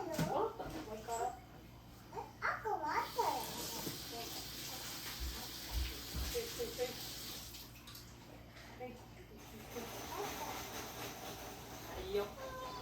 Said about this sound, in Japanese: 帰ってきたらお手手洗います。